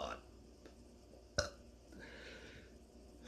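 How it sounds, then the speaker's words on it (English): A single abrupt, close burp after drinking carbonated beer, set against quiet room sound with faint murmured voice before and after. "the carbonation is, like, making me burp a lot"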